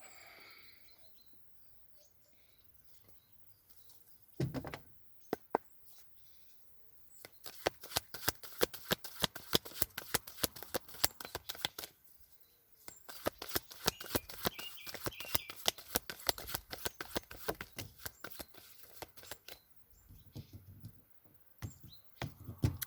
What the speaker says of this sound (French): Oh, je perds toutes mes cartes.